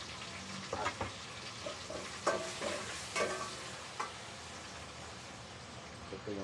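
Garlic, onion and tomatoes sautéing in a pan for pork chop binagoongan: a continuous sizzle broken by several sharp scraping stirs of a utensil, close, with no talk.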